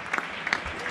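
Neighbours in Getxo applaud health workers from their homes, heard as faint, distant, scattered clapping in a short outdoor burst.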